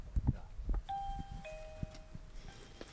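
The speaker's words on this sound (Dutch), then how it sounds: "Oké, hier de bel." A doorbell at a house rings out a two-tone ding-dong, clear chimes ringing and fading after some footsteps and handling noise at the door.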